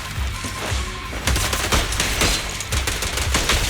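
Rapid bursts of gunfire in the game Zenless Zone Zero, dense repeated shots crackling loud and close in a continuous volley with no talk.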